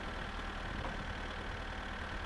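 Tractor engine idling in the driving game My Summer Car, a steady low rumble that holds even and unbroken at moderate level with no voices over it.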